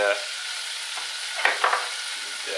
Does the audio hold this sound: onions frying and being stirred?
yes